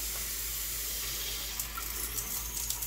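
Water runs steadily in a shower as a constant close broadband hiss with no voices over it.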